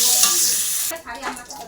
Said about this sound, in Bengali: আলুগুলোকেও ভেজে নিচ্ছি